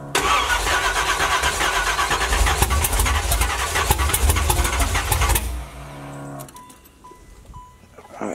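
A cold Chevrolet engine cranks for several seconds with fast, even starter pulses, then catches and settles into a rough idle that fades quieter. The sound is close and loud, with no talk.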